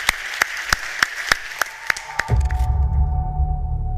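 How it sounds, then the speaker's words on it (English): An audience at a deep tech startup pitch forum claps in slow, evenly spaced single claps, about three per second. Then a low, sustained rumble of broader applause and crowd noise swells and carries on to the end. "So big applause for Elena"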